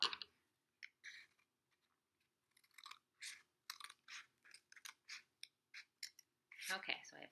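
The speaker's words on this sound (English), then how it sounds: "We want three sections, so we're going to make two cuts. So just cut here and cut here." Scissors snipping a sheet into sections, with a sequence of soft, close crisp cuts and small clicks at irregular intervals, quiet and without voices.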